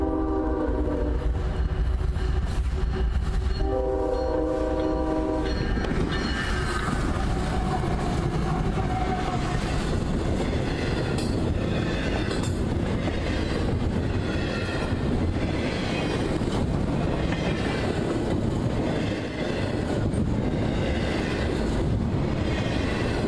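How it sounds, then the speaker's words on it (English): A CSX hotshot freight from Jacksonville to North Bergen rolls by on the Trenton subdivision in central New Jersey, opening with a loud multi-tone horn blast, then a sustained heavy rumble and clatter of wheels and cars passing close. "Here came hotshot QO32 from Jacksonville, Florida, headed to North Bergen."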